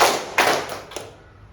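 A single round of students clapping once in a classroom, with a couple of lighter taps trailing off into near quiet.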